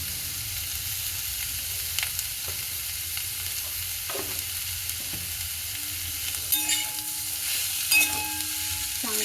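Potato masala with turmeric and salt stirred in a frying pan, a steady close sizzle with occasional scraping strokes of the spoon against the pan, no talking.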